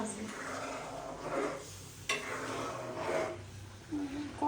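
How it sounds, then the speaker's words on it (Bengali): Cooked rice stir-fried in a pan, with a soft sizzle under repeated scraping and clinking of a spatula against the metal and a few sharper knocks, close by. "ভাত ভাজো তাহলে। ভাতগুলো ভাজি।"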